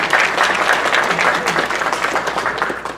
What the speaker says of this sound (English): sure, you can clap